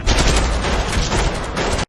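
Dense, continuous burst of police gunfire in a horror film, loud and close, with overlapping rapid shots forming a sustained fusillade for nearly two seconds before cutting off abruptly.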